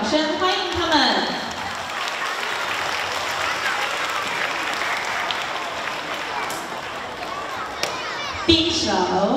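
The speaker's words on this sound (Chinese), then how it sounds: "请再给我们一次热烈的掌声欢迎他们。" An audience warmly applauds a primary school children's choir, a dense sustained wave of clapping; a voice over a loudspeaker speaks at the start and again at the end, framing the applause.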